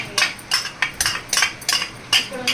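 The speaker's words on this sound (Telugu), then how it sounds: "ఒకసారి మొత్తం కలుపుకుందాం." A spoon stirring fish curry paste in a metal pot makes about nine sharp, evenly paced clinks and scrapes against the pot, close and clear with no talk.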